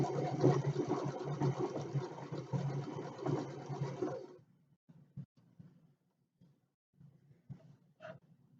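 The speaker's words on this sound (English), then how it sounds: "Just gonna keep sewing on 1/4 inch seam allowance, and then stopping before we get to the next pin and taking that out." A sewing machine stitches a quilt seam at a quarter-inch allowance, running steadily and fairly close for about four seconds before stopping, followed by quiet handling sounds.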